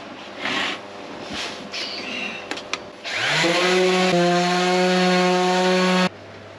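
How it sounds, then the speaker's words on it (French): Dried filler putty is sanded: a few short, scratchy rubbing strokes come first, then a powered tool spins up with a rising whine and holds a loud, steady buzzing tone before cutting off abruptly. "On va venir se le poncer."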